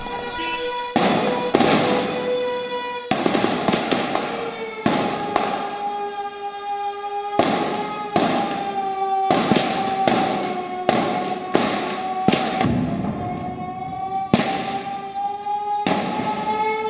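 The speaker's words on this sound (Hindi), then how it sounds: "Commander operation commander building gate 1 के सामने से फायरिंग का आवाज आ रहा है।" Gunfire during the 2001 attack on the Parliament House: a long series of sharp, loud bangs comes at irregular intervals, some in quick pairs, each with a ringing tail.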